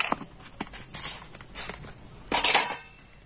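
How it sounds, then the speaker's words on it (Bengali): Batter with a spoonful of baking powder is whisked in a bowl for rice-flour-free chitoi pitha, giving uneven clinking and scraping strokes against the bowl, close and moderately loud, with no talk. "বেকিং পাউডার দিয়ে ব্যাটারটা কিন্তু আবারও খুব ভালো করে আমি ফেটিয়ে নেব।"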